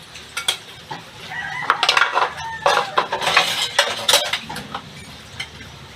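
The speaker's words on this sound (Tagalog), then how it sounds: "Sa kusina, maghugas tayo yung plato." Plates and cutlery are washed in a home kitchen, giving irregular nearby clinks and clatters. A rooster clucks and crows faintly in the background.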